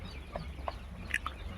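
A local hen sitting on her eggs gives a few soft, short clucks spaced about a second apart, close but quiet over low background hum.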